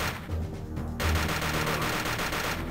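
Rapid automatic gunfire from shooting at enemies in the Aliens: Infestation video game, a dense continuous burst of game weapon fire that stays loud throughout, picking up in intensity partway through.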